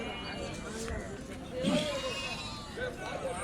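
Goats bleating amid a busy goat market in Melapalayam, with several short wavering calls rising over constant crowd chatter and background talk.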